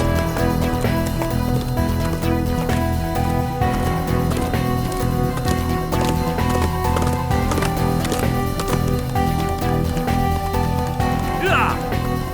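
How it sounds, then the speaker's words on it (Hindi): A horse gallops with a steady, rapid drumming of hooves, half buried under a loud, sustained dramatic music score that runs throughout. "मैं ये घोड़ा ले रहा हूँ"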